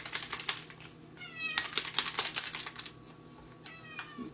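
A house cat meows repeatedly in a kitchen, several short high calls close by, over a faint steady background hum and light tapping.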